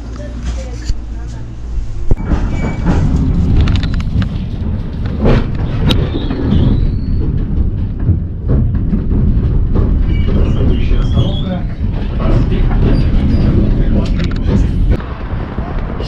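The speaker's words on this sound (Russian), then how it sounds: "Так, мы сели в 30-й трамвай" A route 30 tram in Saint Petersburg, a continuous rumbling ride with rattles, clunks and door-like knocks inside the car, while people talk over the noise.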